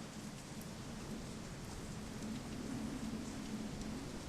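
Steady rain in the video game Shadowrun: Hong Kong forms a continuous, even hiss with a low rumbling undertone, faint and unchanging throughout, with no voices.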